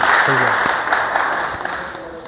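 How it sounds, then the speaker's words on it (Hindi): A crowd at a Safety Day workplace program breaks into sustained applause, a dense, loud wash of clapping that fades slightly toward the end while a voice briefly speaks over it. "जोरदार तालियां"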